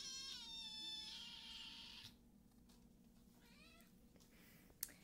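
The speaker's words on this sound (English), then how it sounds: "So many cute kittens." Kittens meowing: a few high, drawn-out mews close by, one sustained cry at the start followed by shorter, quieter calls and a small sharp click near the end, in an otherwise quiet room.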